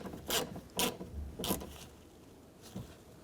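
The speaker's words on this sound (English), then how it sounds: "And snug those bolts down." Ratcheting metallic clicks in short bursts as bolts are snugged down on a 2004-08 Nissan Maxima front driver's side window regulator, close and moderately loud with quiet gaps between.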